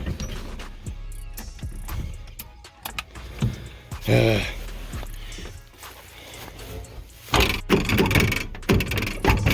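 A car door shuts with a solid thud during work on cars over a long weekend, among mechanical clatter, power-window whirring and someone talking.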